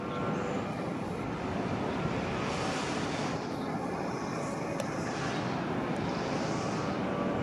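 An airplane on approach into LAX, near the SoFi Stadium construction site in Inglewood, produces a steady, broad roar that holds at an even level throughout, mixed with windy outdoor noise and no talking.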